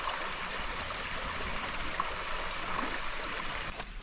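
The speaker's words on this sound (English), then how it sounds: "You're just hearing the creek go by" A creek flows through temperate rainforest on the Pacific Rim coast, a steady, even rushing of water that fills the whole stretch at moderate level, with no voices.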